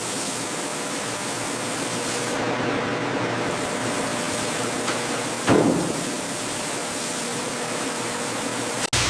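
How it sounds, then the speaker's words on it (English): Continuous hissing water from spray bars pours and splashes steadily over ripe papayas in a dried-fruit factory, with a brief clunk partway through and no voices. "First rinse begins under spray bars, water sheeting over papaya skins and beating along curves."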